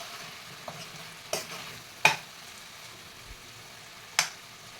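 Pumpkin gravy is stirred in a frying pan, a soft steady sizzle underneath with a few sharp scrapes and clinks of the spoon against the pan at irregular intervals.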